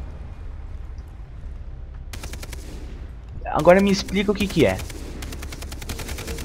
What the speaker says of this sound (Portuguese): Eles ficam dançando aqui, atirando, sem acabar a munição e coisas do tipo.